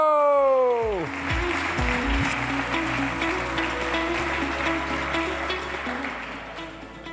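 Audience applause welcoming the first pitcher to a startup stage event at South Summit, a broad steady wash of clapping that follows a descending musical sting and sustains throughout.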